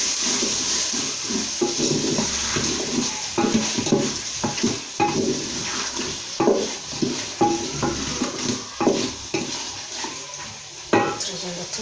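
Onion being stirred into meat frying in a pan, with a steady sizzle and repeated scraping clatters of a utensil against the pan, close and fairly loud.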